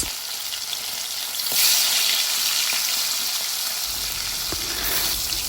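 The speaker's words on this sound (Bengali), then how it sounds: "এই মাছগুলো আমরা ভালোভাবে ভেজে নেব" Steady, loud sizzling and crackling of spice-coated tilapia frying in hot oil, continuous throughout with a few faint pops.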